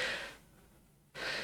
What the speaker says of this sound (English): panting and holding his keys